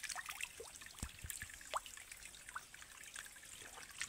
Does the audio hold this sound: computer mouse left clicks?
no